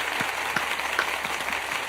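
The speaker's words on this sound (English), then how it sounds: "Let's make a round of applause for Thanos." A small crowd applauds a guest on a charity stream, a steady wash of clapping with a few distinct claps standing out, heard alone.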